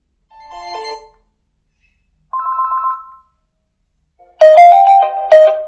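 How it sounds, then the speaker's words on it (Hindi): A basic feature phone's call ringtone plays in three separate bursts of electronic tones, with short silences between them; the last burst is louder and brighter. "उन रिंग टून्स की जो आवाज़ है वो कैसी है।"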